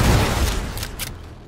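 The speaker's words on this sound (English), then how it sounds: "throwing grenades down here" Grenade explosions in the Halo 4 multiplayer video game, a loud low booming rumble that opens the clip and slowly fades, with faint crackling debris after it.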